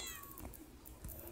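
A short, faint cat meow from the Minecraft video game, a single drawn-out cry heard alone over low background noise.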